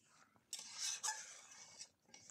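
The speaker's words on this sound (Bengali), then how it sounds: "নাড়াচাড়া করে দিলাম ঢাকনা উঠিয়ে।" Fish roe curry is stirred in a pan on a clay stove after the lid comes off. A few faint scraping and clinking strokes of a utensil against the pan come in short bursts.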